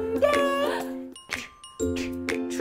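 A bright two-tone ding-dong chime rings clearly, followed by softer tinkling tones and another chime, with no talk over it.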